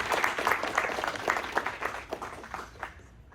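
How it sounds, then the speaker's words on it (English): An audience at a student internship presentation gives another round of applause, a dense burst of clapping that stays fairly even before thinning out and fading near the end. "Let's give Christian another round of applause."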